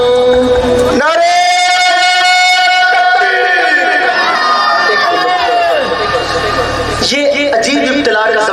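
A crowd at a religious mahfil gathering in Chiniot chants slogans together, a loud massed shout of many voices rising in unison, with a single strong voice leading into it and a second burst of chanting near the end.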